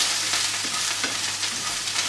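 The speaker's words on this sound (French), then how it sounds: "Voilà, qui تقلاو bien هذوك les cubes d'aubergine, c'est là les cubes de tomates" Cubes of eggplant and tomato fry in a pan with a dense, even sizzle and crackle, close and continuous, with no talking.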